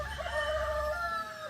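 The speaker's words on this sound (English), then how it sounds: "Those chickens." Roosters crow in the backroads of Tennessee near the Smoky Mountains, with a drawn-out crow fairly loud over a rumbling outdoor background.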